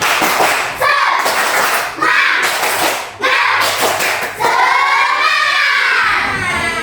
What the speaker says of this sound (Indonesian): mari kita tepuk semangat terlebih dahulu ya